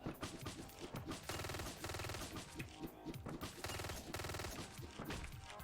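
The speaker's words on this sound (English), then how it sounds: "you have this big guy shooting his Uzi at you" Uzi fire in the video game Hotline Miami: loud, continuous bursts of rapid automatic shots rattle in repeated volleys, with brief gaps between bursts.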